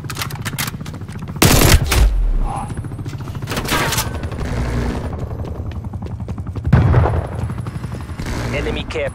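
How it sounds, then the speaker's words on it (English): Attack helicopter in Call of Duty Black Ops Cold War Team Deathmatch, its rotor chop blending with steady machine-gun fire and bursts of gunshots, with two louder impacts standing out, while in-game voice callouts play over the mix. "Hostile attack helicopter inbound."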